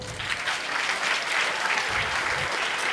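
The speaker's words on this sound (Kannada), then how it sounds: "ರಾಜೇಶ್ ಅವ್ರಿಗೊಂದು ಚಪ್ಪಾಳೆ ಕೊಡಬೇಕು." An audience claps for a man named Rajesh at a gathering, giving a steady, fairly close round of applause throughout.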